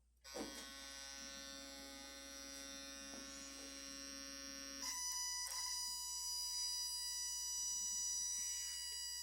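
Homemade power inverter switched to its 220-volt output, giving a steady electrical whine and hum with a sharp click near the start and a shift in pitch midway, close and continuous, no talking.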